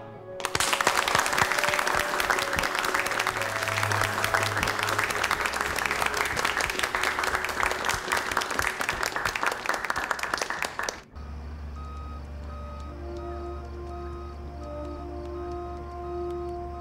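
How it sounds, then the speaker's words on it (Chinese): An audience applauds a flight crew at an air force gathering, dense sustained clapping for about eleven seconds that then stops abruptly, leaving a quiet hum. "建议大家为丰雷机组鼓掌。"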